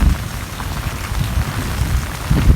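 Heavy rain pours steadily onto surfaces during a stormy downpour, a dense continuous wash with no voices.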